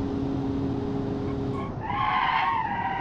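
Tires skid under braking on a car in the BeamNG driving game, engine droning steadily before a sharp rising squeal of rubber takes over, close and loud.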